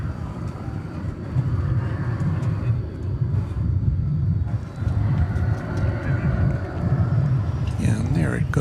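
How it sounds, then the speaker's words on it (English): An American Airlines Boeing 737-800 bound for Austin takes off from DFW Airport, a broad low engine rumble building and swelling at a distance, with talking over it. "So we have American Flight 972 going to Austin, Texas, a 737-800."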